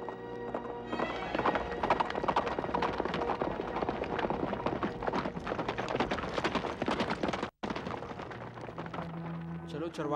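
Horses gallop in a rapid, continuous clip-clop of hooves, loud and close, with music and other sound mixed underneath.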